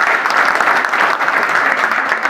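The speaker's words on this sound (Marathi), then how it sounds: "त्या मावळ्यासाठी परत एकदा टाळ्या वाजवल्या." A crowd at a fort expedition event claps in loud, dense, continuous applause throughout, with no voices standing out.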